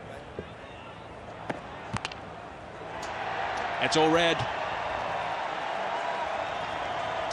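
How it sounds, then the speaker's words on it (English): A stadium crowd and the South African players react to a big-screen replay during the 2019 India v South Africa first Test. The crowd noise swells midway into a sustained roar under a commentator's voice, with scattered sharp knocks early on. "The noise you're hearing, by the way, is the crowd and also the South African players seeing this on the big screen."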